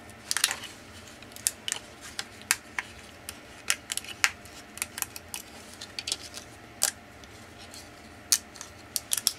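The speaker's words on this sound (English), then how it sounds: "I'm going to go to my Big Shot. I'm going to cut these out." A Big Shot die-cutting machine cuts out Yupo paper, giving a run of sharp, crisp clicks and snaps at an uneven pace over a faint steady hum, fairly close and moderately quiet with no talking.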